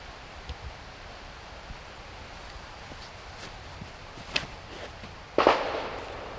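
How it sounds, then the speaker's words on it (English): A single sharp report from a distant gunshot cuts through quiet outdoor ambience on a hillside during a disc golf tournament round, followed by a brief fading tail and soft rustling. "Oh, there's one of those gunshots."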